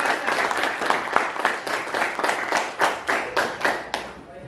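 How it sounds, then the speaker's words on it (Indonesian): A classroom group gives applause for two classmates, a dense steady clapping of many hands held for several seconds and fading toward the end. "Kita kasih aplaus untuk teman kita Citra sama Fransa."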